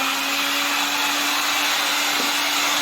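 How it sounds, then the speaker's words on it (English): A vacuum cleaner runs steadily and loudly close by, a constant high whooshing roar with a faint tonal hum, no voices. "grab the old vacuum cleaner."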